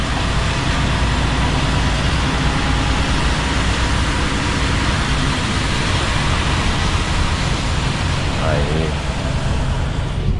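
Steady, loud road roar from traffic on the BR-101 highway in Santa Catarina at night, heard from inside a vehicle and continuous throughout, with a brief faint voice near the end.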